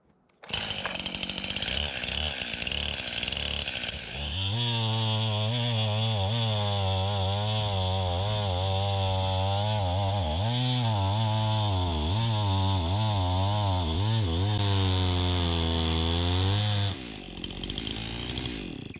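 A chainsaw bucks the butt end off a felled log, running loud and close almost the whole time with the engine pitch rising and falling as it bites into the wood, then easing off to idle near the end.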